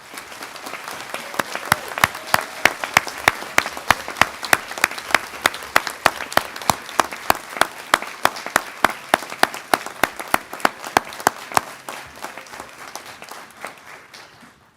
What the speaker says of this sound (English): give a special round of applause to all our graduates here today